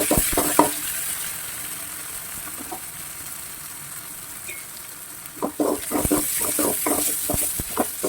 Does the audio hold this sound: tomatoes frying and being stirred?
yes